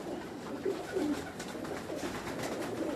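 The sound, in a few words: pigeons cooing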